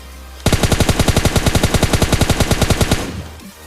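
A burst of rapid automatic gunfire in the video game PUBG Lite, about twenty-five loud evenly spaced shots fired in quick succession over roughly two and a half seconds, close and alone without talk.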